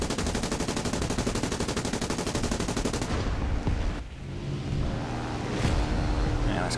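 Rapid machine-gun bursts from a tail gunner in a flight combat game, a dense rattling stream of shots for about three seconds, then a break and engine drone with a few scattered sounds.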